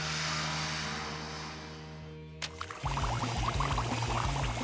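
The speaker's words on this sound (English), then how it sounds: "Now let's try it with the straw like this so it pushes into the water." Air blown through a straw into water gurgles into a rapid, close bubbling after a low steady hum and a sharp burst, continuing alone to the end.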